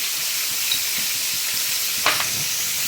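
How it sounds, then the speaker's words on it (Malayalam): Onions with salt sauté in a hot pan, giving a steady, close sizzle and hiss with a couple of brief scraping stirs and no voices. "നന്നായി വഴറ്റിയെടുക്കാം."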